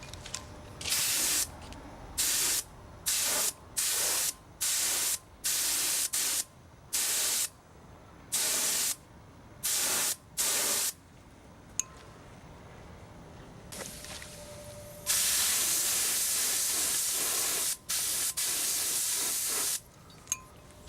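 Decanted silver paint sprays onto small parts in a string of short, loud hissing bursts with brief pauses, then one long sustained spray pass.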